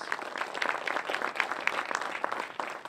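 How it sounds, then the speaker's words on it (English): A crowd applauds at a moderate distance, a steady patter of many hands clapping at even volume throughout. "Let's give them a round of applause, please."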